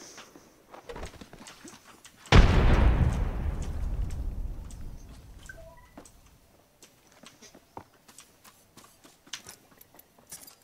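Grenade detonating in a battle royale shooter game: a single sharp, heavy blast after a few quiet footstep-like ticks, followed by a long rumbling tail that fades over several seconds into faint clicks and movement sounds.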